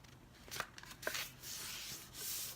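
Soft, close crinkling and creasing of paper being folded, a few quick rustles followed by a steady light brushing.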